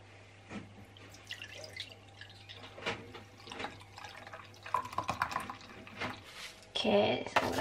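Liquid is poured while bubble tea is made at home from a kit, giving scattered drips and small splashes that build into a fuller pour near the end, close and fairly quiet.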